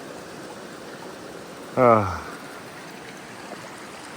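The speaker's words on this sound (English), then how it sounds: "Down by this big old river now." A big, ice-cold glacier river flows through forest as a steady background rush, with a brief spoken exclamation near the middle.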